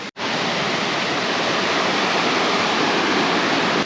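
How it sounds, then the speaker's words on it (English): Rushing water overflows onto a foggy hiking trail at Little Devils Stairs in Shenandoah, a loud, steady, close roar of flowing water that starts abruptly and holds without any talk. "And the water's just overflowing onto the trail itself."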